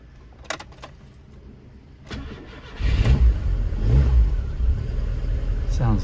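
A few light metallic jangles of keys in the ignition come first, then a 1991 Rover Metro GTI engine cranks, starts and revs up loudly nearby.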